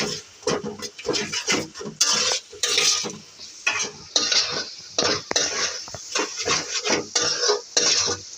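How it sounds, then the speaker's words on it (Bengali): Two eggs are stirred into a frying pan of already-fried ingredients for shahi bhindi bhaji, a spatula scraping and clinking against the metal in quick, repeated strokes, close and fairly loud, with no one talking. "এখন ভালোভাবে নাড়বো।"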